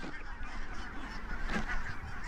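Barnacle geese grazing on young grass in a Dutch wetland wilderness, honking repeatedly in an overlapping flock chorus at moderate distance over an outdoor background.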